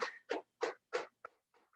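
Hands slap thighs during a seated hip exercise, legs stretched out: four firm, evenly spaced pats close by, then several lighter, quicker taps like scattered rain, with no talking.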